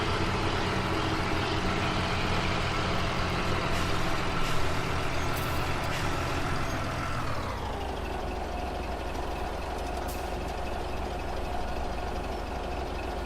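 A Caterpillar truck engine in Farming Simulator 17 drones loudly and continuously, a heavy rumbling diesel note that drops in pitch partway through as the revs fall, then holds a lower steady growl.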